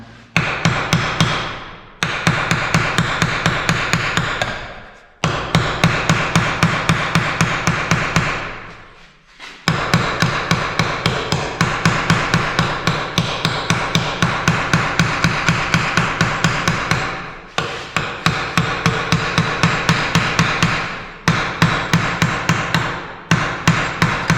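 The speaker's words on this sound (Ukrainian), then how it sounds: "закручуємо гайку і, і затискаючи гачок, розклепуємо" Metal clothes hanger hook being riveted over a nut and washer by hammering, rapid close repetitive loud blows in long bursts separated by brief pauses, with no talking.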